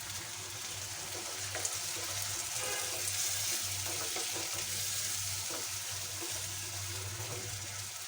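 Water splashes into a pan of turmeric and coriander powder frying for a small-fish chorchori curry, giving a steady, close, moderately loud sizzle that carries on evenly with no talking.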